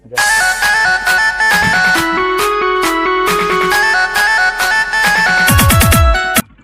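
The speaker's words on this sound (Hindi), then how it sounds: "फोन आ रहा है।" Phone ringtone plays loud and close as a bright repeating electronic melody with clear tones, ending in a quick descending flourish, with no voices over it.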